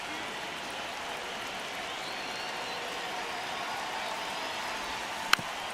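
Steady crowd roar from a baseball video game's stadium, a constant wash of murmur and cheering in a one-run ninth inning, with one brief sharp click near the end.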